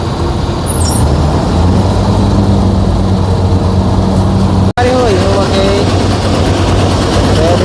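A Kartar 4000 combine harvester engine runs in a field, a loud, steady low droning rumble that continues unbroken apart from one momentary dropout, with no talk over it.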